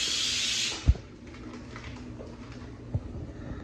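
A pressure cooker on a home stove vents a loud, steady hiss of steam for under a second before cutting off abruptly with a soft thump, leaving quiet room noise and another faint knock.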